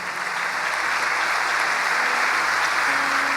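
A church congregation at an evangelical service claps in dense, sustained applause that stays steady and full throughout, with no clear voices above it.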